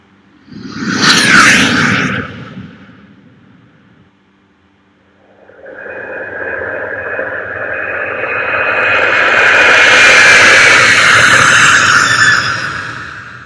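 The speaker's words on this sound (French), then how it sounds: "Je choisis l'avion à réaction." Jet airplane sound effect from iMovie on a Mac: a short loud roaring whoosh, a brief gap, then a long rising, sustained jet roar with a whining high edge that swells and holds.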